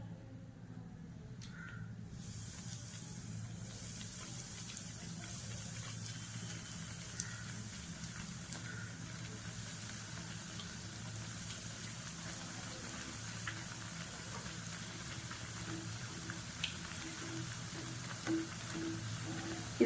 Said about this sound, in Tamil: இப்போ நான் வந்து பிரெட் எல்லாம் போட்டு எடுத்துக்கிறேன்.